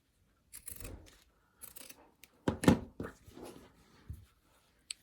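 Quilt fabric pieces being trimmed, several short cutting bursts spaced unevenly with one louder, denser snip in the middle, close and fairly quiet with no talking.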